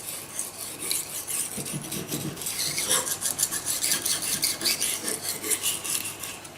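Knife blade rubbed back and forth across a fine-grained Pyrenees sharpening stone from Ariège, a steady close rasping scrape with rhythmic strokes that grow denser and louder in the second half, no voices.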